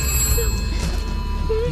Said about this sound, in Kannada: ರಂಜು, ಫೋನ್ ಎತ್ಕೊಳ್ಳೆ